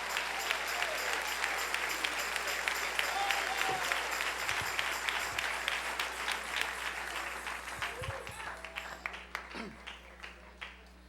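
Applause and clapping from a church congregation fill a worship service, a steady wash of many hands close and loud that thins out toward the end, with some voices mixed in.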